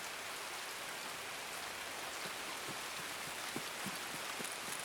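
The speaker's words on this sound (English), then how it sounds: "God, this rain is fucking loud." Heavy rain pours steadily in a video game, a loud dense hiss with scattered drop patters throughout, no voices.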